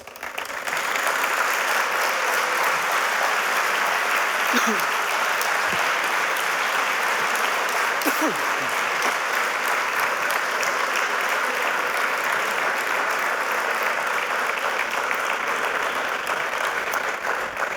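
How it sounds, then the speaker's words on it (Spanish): A large audience at a Spanish literary awards ceremony gives a long, loud, sustained round of applause in memory of Joaquín, a dense unbroken wash of clapping lasting nearly eighteen seconds. "Recordamos a Joaquín, si les parece, con un fortísimo aplauso."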